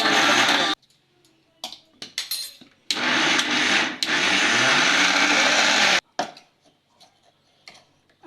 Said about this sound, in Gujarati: એમાં બધું મિક્સ કરી દઈ અને અધકચુર ગ્રાઇન્ડ કરવાનું છે